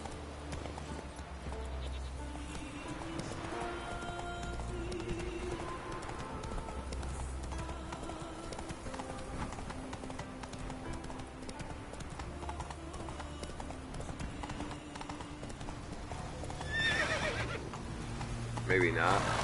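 Roach, the horse in The Witcher 3, trots with a steady clip-clop of hooves, and a clear whinny rises near the end, with someone talking over it.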